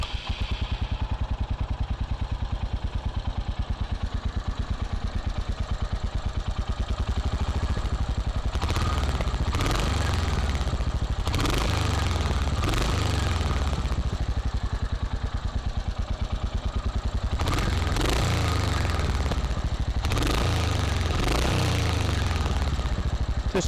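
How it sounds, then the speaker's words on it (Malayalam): A 2025 Royal Enfield Hunter 350 motorcycle idles with a steady, thumping exhaust beat, broken by several sharp throttle blips that rise and fall back to idle, heard close with no talking. "വണ്ടിയുടെ ഒച്ച ഒന്ന് കേൾപ്പിച്ചു തരാം."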